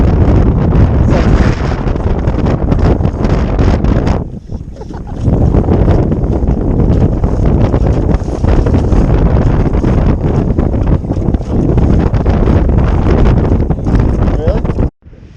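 Strong wind buffets the microphone on a lake during a fishing trip, a loud continuous roar with water and boat noise beneath, broken by a short lull near the middle; people talk over it.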